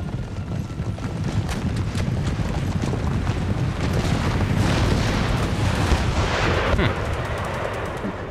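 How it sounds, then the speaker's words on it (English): Cannon fire and battle din from Empire: Total War, with shrapnel and canister shots bursting over a dense, continuous roar of booms, crackling gunfire and rumble that stays loud throughout. "I'm also getting in some shrapnel shots."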